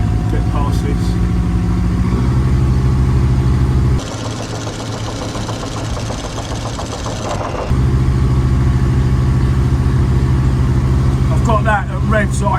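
A loud, steady boat engine drones continuously at high revs on a flooded river near a weir, its tone shifting briefly in the middle before returning to the strained hum.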